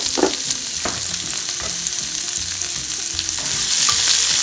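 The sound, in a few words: onions sautéing in hot olive oil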